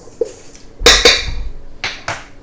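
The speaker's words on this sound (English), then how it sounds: "I'm just going to give that a quick blend of my powders." Dry powders and salt being whisked in a bowl for cookie dough: a few quick scraping, clinking strokes of a whisk against the bowl, in two short bursts with a pause between.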